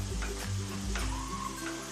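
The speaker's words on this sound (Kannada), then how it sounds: "ಇದರಲ್ಲಿ ಎಣ್ಣೆಯಲ್ಲಿ ಚೆನ್ನಾಗಿ ಹುರ್ಕೊಳ್ಬೇಕು" A flour mixture frying in oil in a pan, a steady soft sizzle with faint stirring scrapes and a low hum beneath, close and moderately quiet throughout.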